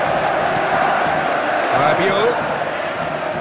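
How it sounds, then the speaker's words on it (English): Stadium crowd noise in the football video game eFootball 2022 during a Paris SG vs Juventus match: a steady, loud roar with a swell of cheering, heard under a commentator's voice. "Well, the crowd clearly like what they just saw."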